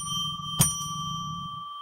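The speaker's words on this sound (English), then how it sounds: "let's ring a bell 3 times to declare sacred space" A bell rung to mark sacred space on a live psychic radio show: one clear, close strike whose bright tones ring on steadily, with no talking.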